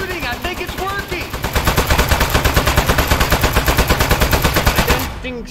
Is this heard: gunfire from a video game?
yes